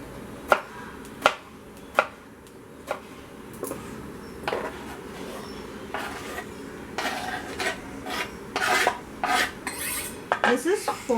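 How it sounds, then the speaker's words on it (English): A tomato being roughly chopped on a board for a fish gravy, a series of sharp, separate knife knocks, slow at first and then quicker and denser, close by with light utensil clatter and no talk. "you have to add 1 tomato. You can just roughly chop it"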